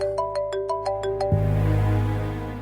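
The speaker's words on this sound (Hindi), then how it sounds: "हुस्ना की कॉल।" A phone ringtone for an incoming call in a Pakistani TV drama, a quick run of bright electronic beeping tones that then settles into a sustained chime, loud and clear with no talking.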